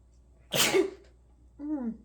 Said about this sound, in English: That was kind of a gross sneeze.